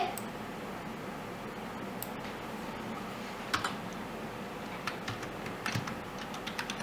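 Computer keys tap in short, faint, irregular bursts on a quiet desk, with soft clicks clustering toward the end.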